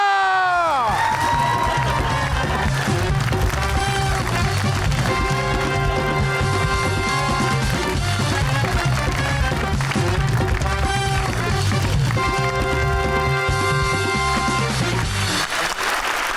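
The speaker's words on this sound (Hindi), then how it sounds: "नौशीन के लिए तालियां रुकती ही नहीं है।" A television studio audience claps and cheers steadily for Pakistani actress Nausheen Shah on the talk show Mind Na Karna, a dense continuous roar of applause layered with bright music throughout.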